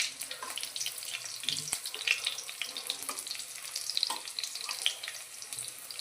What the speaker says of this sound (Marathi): लसूण गोल्डन ब्राऊन रंग होईपर्यंत पाहून घेऊया।